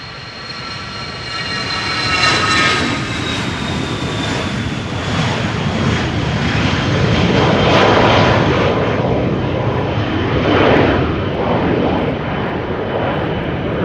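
Jet airliner engines spool up for takeoff on Schiphol's Polderbaan runway: a loud, steady roar with a rising whine that surges and swells in waves, heard close and without voices.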